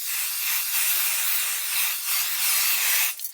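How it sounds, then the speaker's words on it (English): A temporary adhesive spray can sprays in a continuous airy hiss for about three seconds, briefly pausing mid-way, then sputters and cuts off at the end. "I'm going to be using temporary adhesive spray to get it to temporarily stick on here."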